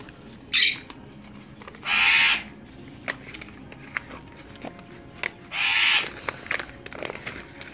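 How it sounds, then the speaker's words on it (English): A blue and gold macaw lets out three loud, harsh squawks, one brief and two longer drawn-out calls, close by, with small clicks and taps between them and no talking. "Our test subject here is Bam Bam, the blue and gold macaw, who seems excited to be getting this treat stick"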